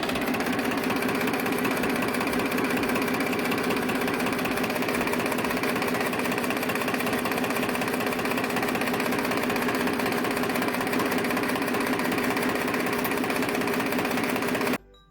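A Farmtrac Champion 39 tractor in powerful running condition idles with a steady, close, rhythmic diesel chug that holds unbroken for about fifteen seconds before cutting off abruptly.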